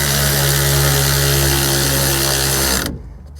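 Loud, steady whir of a power tool driving a 1/2 inch bolt down to compress the seat bar sensor spring on a Bobcat, running continuously up close for nearly three seconds before cutting off abruptly.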